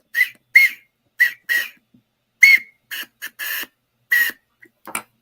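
Series of short, sharp whistled calls in an uneven rhythm, close and fairly loud with brief silences between, heard at night while someone calls in catfish.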